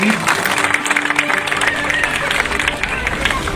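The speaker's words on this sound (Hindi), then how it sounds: "जोरदार तालियां दे दीजिए उनके लिए प्लीज" An audience applauds at a public gathering, a dense, continuous wash of clapping mixed with crowd chatter and babble throughout.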